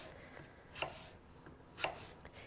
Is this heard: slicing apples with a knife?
yes